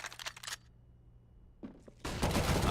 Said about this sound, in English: Some extra bullets, just in case he's playing dead